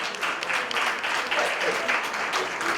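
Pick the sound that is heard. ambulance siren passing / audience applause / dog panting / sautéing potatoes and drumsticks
audience applause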